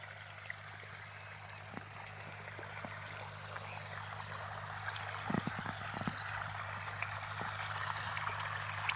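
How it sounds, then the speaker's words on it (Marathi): Rainwater from heavy monsoon rain runs out of a farm field, a quiet steady trickling flow heard alone, with a few brief faint clicks partway through. "अक्षरशः वावराच्या बाहेर पाणी चाललेलं आहे."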